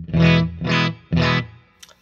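Clean tone from a Whitfield Telecaster played through a Fender Deluxe Reverb amp: three close, evenly spaced strummed chords, each ringing about half a second, with no voices over them.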